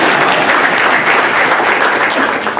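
Loud, close applause from the audience at a press event introducing a new head football coach at ICC, a thick continuous patter of clapping filling the whole moment.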